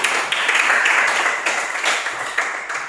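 A group claps hands in steady, dense applause for a few seconds, with no talk over it.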